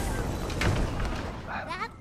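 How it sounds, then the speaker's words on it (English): A video game explosion rumbles as a broad, sustained roar that stays loud throughout, with a rising warble near the end and no clear speech. "Explosion imminent."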